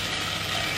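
Pepper ground into a pan being reused for a potato and sausage breakfast hash, a steady close rasping crunch that runs without pause for under a second, with no talk.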